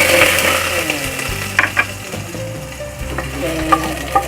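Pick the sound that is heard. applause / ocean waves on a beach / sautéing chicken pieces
sautéing chicken pieces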